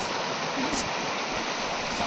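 Steady, loud rush of flowing water, a constant broadband roar like a fast river close by.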